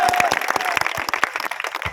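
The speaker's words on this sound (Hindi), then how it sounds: "एक बार तालियां बजाइए पुलिस प्रशासन के लिए भी।" A crowd at a Babasaheb Ambedkar Jayanti gathering in Jamnagar applauds the police administration with dense, steady clapping that stays loud and close for the whole two seconds, with no voice on top.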